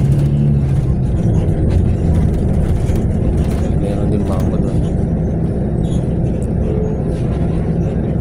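Busy road traffic at Lucena Grand Central Terminal in Quezon Province, with cars, buses, jeepneys and tricycles rumbling steadily nearby, while a person talks over the continuous engine noise.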